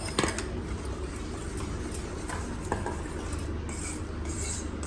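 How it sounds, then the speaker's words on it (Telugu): Brownie batter is mixed by hand with a whisk in a bowl, producing a continuous close scraping and rubbing with quick rhythmic clicks of the wires against the bowl. "అది లేకుండా నీట్గా విస్కర్తో మిక్స్ చేసుకోవాలి"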